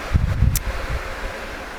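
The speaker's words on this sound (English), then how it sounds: "the raindrops are hitting me whenever there's a gust of wind blowing the raindrops on me" Gusty wind carrying rain outdoors on a warm evening in Serbia, a steady broadband rush with a few louder buffets early on, close to the microphone with no voices.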